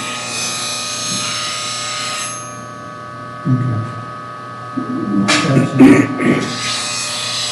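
A bench grinder hums steadily while a woodturning tool is touched to the wheel, giving a short grinding rasp, with brief nearby talk and handling noise in between.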